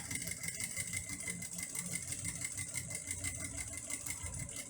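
A sewing machine stitches a reverse lock stitch on a quilt, its steady rapid mechanical whirr running continuously at a constant close level with no talk.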